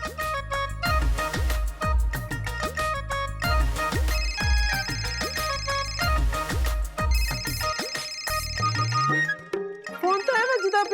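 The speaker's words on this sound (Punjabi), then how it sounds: "ਫੋਨ ਤਾਂ ਐ ਵੱਜਦਾ ਪਿਆ" A mobile phone ringtone plays as a tuneful electronic melody, repeating steadily over about eleven seconds at moderate loudness, with a voice breaking in briefly near the end.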